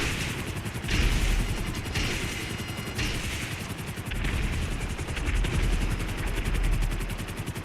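A helicopter in the online video game GTA 5 gives a continuous, loud rotor chop with a steady rapid pulse, heavy low-end rumble and faint clattering, steady throughout with no talking.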